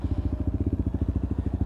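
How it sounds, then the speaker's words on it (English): A Lexmoto ZSX-F 125cc motorcycle idles close by with a steady, low, rapid thumping beat that stays even and unbroken throughout. "nice little purr from that engine"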